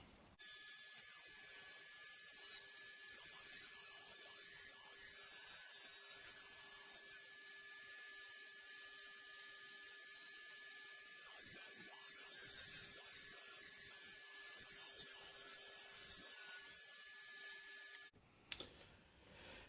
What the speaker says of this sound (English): I've set the fence up so I can cut a couple of strips the same width as this track